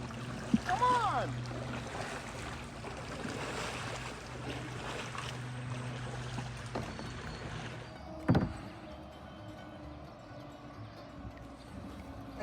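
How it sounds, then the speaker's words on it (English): Kayak paddling on the New River: soft, continuous water sloshing and paddle strokes close by, with a sharper knock partway through, against a quiet outdoor background. "Three-legged kayaking."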